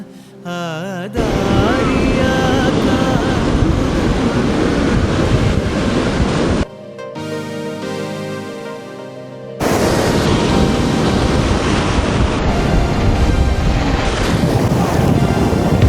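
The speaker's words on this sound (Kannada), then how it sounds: "ತುಂಬ ಅಲೆಗಳು ಬರ್ತಾನೆ ಇದೆ." Wind-driven sea waves crash onto Pondicherry beach in the evening, a loud, steady roar with heavy wind buffeting, briefly broken by a quieter musical stretch before the surf returns.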